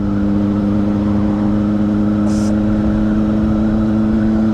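Honda CBR600RR motorcycle engine held at very high revs, a steady loud droning whine that stays constant throughout with no talking.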